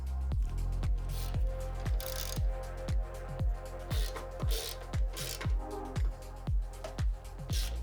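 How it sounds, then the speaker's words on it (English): A wrench ratchets in repeated bursts while the screws of a motorcycle crash bar are tightened, roughly a dozen crisp clicking strokes in a steady rhythm, close and fairly loud with no talking. "Once all screws are in place, you can start tightening all of them."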